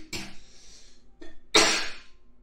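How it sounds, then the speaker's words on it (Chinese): A woman coughs three times close to the microphone during an ASMR live stream, with a sharp short cough, a faint one, then a longer harsh burst, and no speech. "进这个房间特别想咳嗽"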